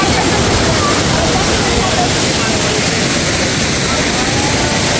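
Ulingan Falls in Basilan pours with a loud, constant, close roar of rushing water that fills the whole scene without a break.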